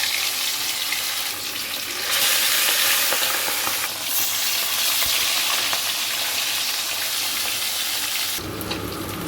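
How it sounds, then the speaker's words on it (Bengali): Pieces of katla fish fry in hot oil with a loud, dense, continuous sizzle and crackle, close up and unbroken, with a brief shift in intensity near the end and no talking. "এখানে আমার তেলটি গরম হয়ে গেছে, এখানে একে একে মাছগুলি দিয়ে দেব।"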